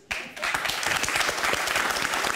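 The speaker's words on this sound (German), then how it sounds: "Wenn Sie dafür sind, dass Stefan das machen soll, klatschen Sie bitte jetzt." An audience at an improv comedy show claps together to cast a vote, with dense, steady applause starting abruptly and continuing throughout at close range.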